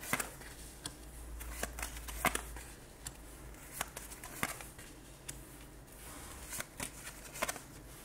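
Tarot cards are handled and shuffled close by, with quiet riffling and a scatter of sharp, irregular taps and flicks over a faint background hum.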